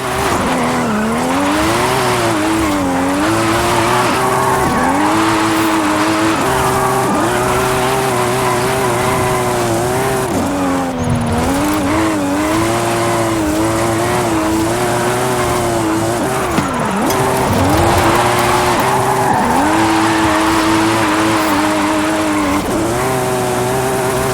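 A high-powered car, roughly 700 extra bhp, holds a long drift at speed in Forza Horizon 5, its engine droning and wavering without a break under continuous loud tire squeal.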